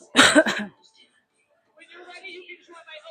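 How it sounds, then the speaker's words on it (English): A single close cough, sharp and brief, followed by quiet and faint soft background sounds. "Don't mind the coughing."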